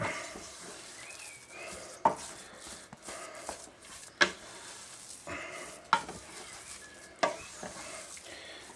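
Chinese curry sauce made from scratch is mixed in a pan, with a soft, steady background hiss and occasional sharp clacks and scrapes of the utensil against the pan, fairly quiet and without speech.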